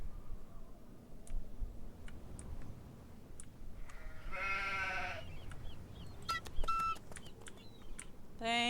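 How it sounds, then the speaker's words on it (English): Sheep bleating in a haunted-castle video game set on a moor, a couple of clear, drawn-out bleats rising over a steady ambient bed, with short tonal game chimes around them. "Bleating. I think that's what they call it when the sheep make the noise"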